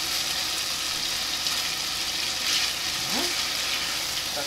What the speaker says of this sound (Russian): Вот они у нас начали жариться.